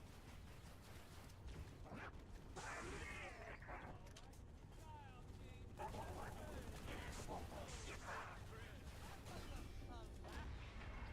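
Video game gunfire, with bursts of weapon fire and mechanical clatter spread through a steady, busy in-game background, and a voice talking over it.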